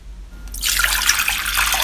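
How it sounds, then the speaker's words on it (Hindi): Water pouring steadily into a pot as the base for gulab jamun sugar syrup, a short close splash that starts abruptly and runs on alone. "पानी को ऐड कर दें।"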